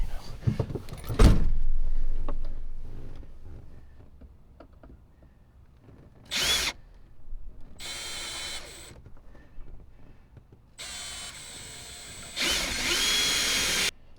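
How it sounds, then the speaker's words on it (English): Power drill boring pilot holes for mounting off-road lights, heard in a few short whirring bursts separated by quiet stretches and faint handling noises. "I'm gonna go get the drill out some pilot holes"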